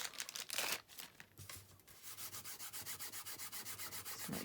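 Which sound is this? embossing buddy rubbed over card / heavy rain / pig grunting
embossing buddy rubbed over card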